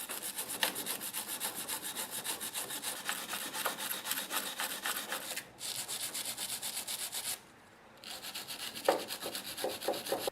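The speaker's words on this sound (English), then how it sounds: "I'm going to clean the battery terminals with a wire brush" Wire brush scrubbing car battery terminals, rapid rhythmic scraping strokes close to the mic, with two brief pauses before the brushing resumes.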